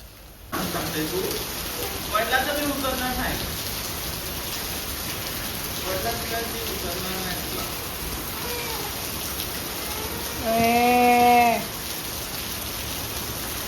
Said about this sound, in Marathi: पाऊस जो की थांबतच नाही